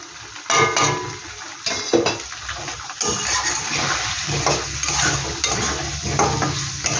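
Ground spices stir-frying in a pan for koi fish curry: a loud burst of sizzling hiss with scraping stirs, a few sharp clatters early on, then a steady bubbling fry that carries on to the end.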